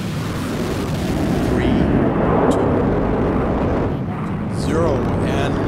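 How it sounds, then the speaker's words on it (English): Simulated final liftoff of Space Shuttle Endeavour, with a loud, sustained broadband engine roar filling the whole span without letup; faint voice traces may sit under the rumble. "Liftoff for the final launch of Endeavour"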